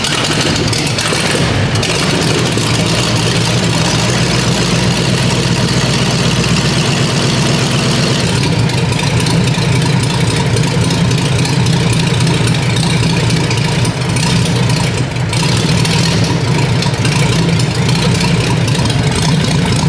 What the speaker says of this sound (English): So that's the air-cooled V8 engine.